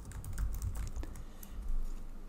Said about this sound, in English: I'll click T on my keyboard and just type